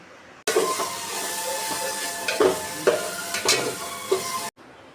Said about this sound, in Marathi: आता हा मसालासुद्धा एकदम व्यवस्थित असा फ्राय होऊ द्यायचा